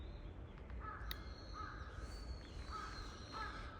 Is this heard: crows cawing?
yes